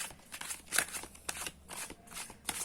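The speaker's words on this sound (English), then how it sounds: "Let me shuffle the cards a bit," Tarot cards being shuffled by hand, a series of quick papery riffles and soft slaps in an irregular rhythm, close and fairly quiet.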